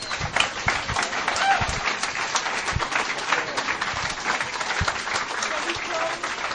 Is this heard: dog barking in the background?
no